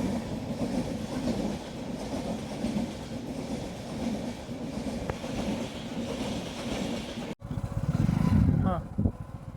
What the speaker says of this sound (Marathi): पुलाच्या खालनं चाललेली ट्रेन.